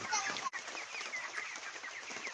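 A broiler chicken of about two kilograms on a farm clucks in short, busy bursts close by, with a brief gap partway through.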